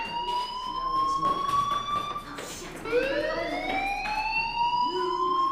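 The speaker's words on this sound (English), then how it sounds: "do you hear that fire alarm? That means you should be outside." A fire alarm in the video game Life is Strange rings in repeated shrill, piercing tones, each burst sweeping upward, loud and close with no voices over it.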